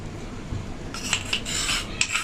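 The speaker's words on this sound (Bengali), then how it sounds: "বড় চামচের দু চামচ দই এবার এটা মেখে নেব" A spoon mixing chicken pieces with two spoonfuls of sour yogurt in a bowl for chicken pakora, giving a few close wet scraping and clinking strokes with no talking.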